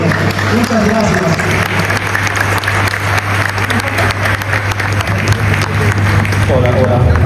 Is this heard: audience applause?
yes